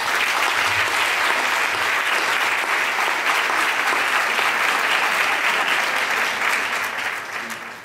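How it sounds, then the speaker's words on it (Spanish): Sustained, loud audience applause fills a concert hall at a community bolero music event, steady dense clapping from a crowd that tapers slightly at the end. "Vamos a darle un fuerte aplauso a María."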